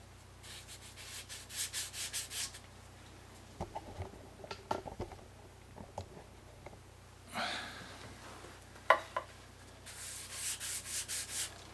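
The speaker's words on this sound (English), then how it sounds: "So lots of guys will just soak their sandpaper, whatever. I just get after it like this." Dry sandpaper is worked by hand over the clear-coated body of a Fender Stratocaster guitar refinished with automotive rattle-can lacquer, in quiet bursts of quick, rhythmic rasping strokes separated by pauses.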